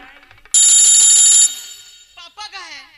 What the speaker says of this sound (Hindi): सब फोन आ रहा है।